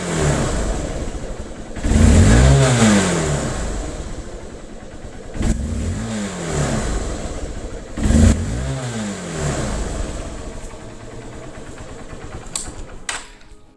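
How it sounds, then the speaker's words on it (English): A 2009 BS2 motorcycle running on E20 petrol revs up sharply three times from idle after a cold start with the choke off, each rev rising and falling, loud and close, with a few clicks near the end. "The motorcycle starts up immediately. And see the throttle response."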